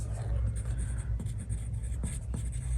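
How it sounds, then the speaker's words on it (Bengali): A pen scratching across paper in quick, close strokes, steady and continuous with short pauses between marks, noting down a round countersunk headed screw. "সো আমি এখানে লিখে রাখতেছি"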